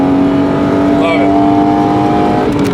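A BMW M3 with a Borla cat-back exhaust hums at a steady, loud pitch, a sustained engine drone with a brief rise in revs midway, heard over people talking.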